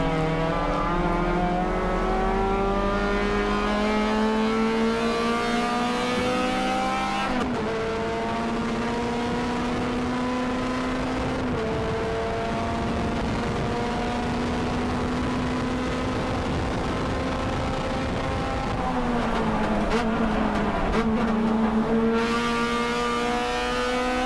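Race cars run at speed on the PittRace circuit, with a loud, close engine note whose pitch climbs and drops through gear shifts and braking over about twenty seconds.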